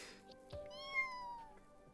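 A black cat in the Arknights video game meows once, drawn out and tonal, clear and close over a soft game backdrop.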